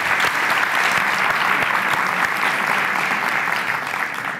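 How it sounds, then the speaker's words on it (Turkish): A studio audience at a Turkish comedy talk show breaks into loud, sustained applause, thick even clapping that fills the room and eases slightly toward the end, with no speech over it. "Kocaman alkış!"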